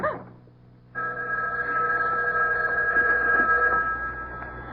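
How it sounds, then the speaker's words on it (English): A house telephone rings in a radio drama, a bright, sustained electric bell tone that starts abruptly after a short quiet moment and continues steadily at close range. "It was the house phone."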